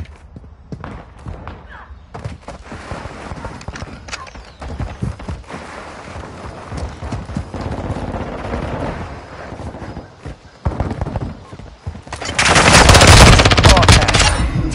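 Gunfire rattles through a military shooter game: bursts of machine-gun and rifle shots build steadily and end in a loud, dense barrage, with short radio-style voice callouts mixed in.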